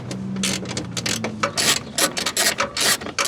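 A ratchet wrench loosening a headlight retaining nut on a Nissan Micra K11, a quick series of close, sharp clicking bursts in an irregular rhythm, with no talking.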